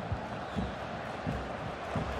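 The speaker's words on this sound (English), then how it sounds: "The crowd have really got behind them today." Stadium crowd noise from a Pumas vs Pachuca Liga MX match in the football video game FIFA 22, a steady roaring murmur with faint swells of cheering throughout, sitting behind the game's audio mix.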